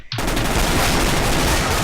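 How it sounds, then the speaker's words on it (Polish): Loud, close Desert Eagle pistol fire in Counter-Strike: Global Offensive, a dense burst of overlapping shots and echoes filling the whole short moment, no talking. "Deagle na bliską odległość, bardzo mocna broń."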